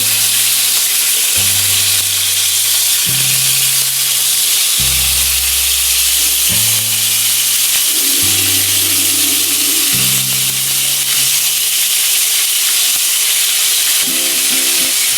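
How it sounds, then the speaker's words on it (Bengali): Parwal pieces nearly done frying in a pan give a constant hissing sizzle, largely buried under prominent background music with a stepping melody. "পটলগুলো ভাজা প্রায় রয়েছে,"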